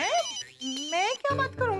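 A telephone rings in a Taarak Mehta Ka Ooltah Chashmah scene, sounding as a melodic electronic ringtone with rising and falling tones in short repeated phrases, loud and close.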